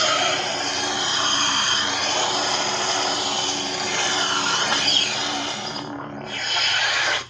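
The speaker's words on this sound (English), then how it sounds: "Blade lockup is holding the auxiliary button down and hitting the saber" A Proffie-powered neopixel lightsaber plays its blade lockup effect, a loud, continuous crackling buzz with a wavering electric hum held steady for several seconds before it cuts off abruptly.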